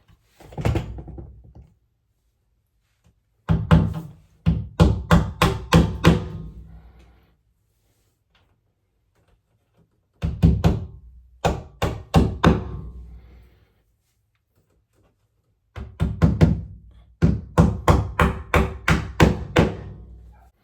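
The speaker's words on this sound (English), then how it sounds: "Then we go ahead and hammer in those anchors for those 3." Bursts of repeated dull hammer blows driving wall anchors, close and fairly loud, in three clusters of rapid strikes separated by pauses.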